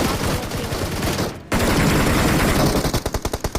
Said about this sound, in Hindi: गोली गोली चल रही है बराबर